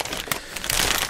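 Large plastic packaging around Eaglemoss 3D printer mainframe and bracket parts crinkles and rustles as it is opened, a loud, continuous crackle lasting about a second with brief bursts.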